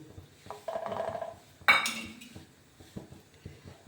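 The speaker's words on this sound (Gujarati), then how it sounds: "હવે એને મિક્સ કરી દઈશું અને ધીરા ગેસે પાકવા દઈશું." A spoon stirring gram flour and ghee in a metal pan on low heat for mesub, with close scraping and clinking against the pan, one sharper knock midway and softer taps after.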